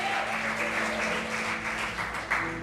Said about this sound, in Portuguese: Dê um aplauso bem forte e glorifica ao Senhor Deus.